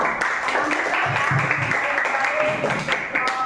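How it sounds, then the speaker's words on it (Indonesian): Classroom clapping for a student during a teaching-practice assessment session: a modest, steady patter of hands from a small group, fairly close, with murmured voices mixed in. "Tepuk tangan untuk Clara."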